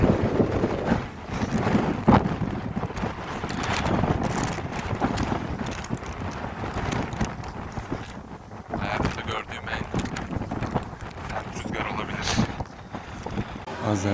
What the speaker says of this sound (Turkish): Azerbaycan aşırı ama aşırı rüzgarlı.